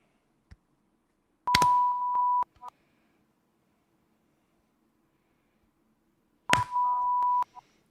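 Two steady electronic sync beeps about five seconds apart, each lasting roughly a second and preceded by a sharp click, over near silence.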